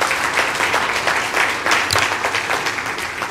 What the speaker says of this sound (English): You all should clap on that one, this Grand Bahama,